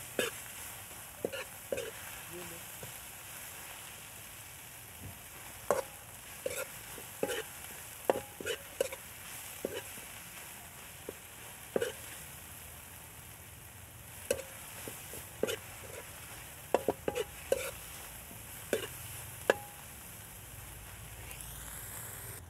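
Banana heart (puso ng saging) stirred in a sizzling pan, with a steady frying hiss broken by frequent sharp utensil scrapes and clicks against the pan, close and moderately loud.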